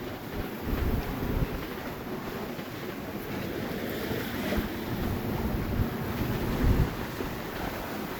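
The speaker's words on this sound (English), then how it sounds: "What do we got? 24 knots of wind" Strong 24-knot wind sweeping over a boat at sea, a continuous roaring rush with buffeting gusts against the microphone and water noise beneath, loud and unbroken, with no voices.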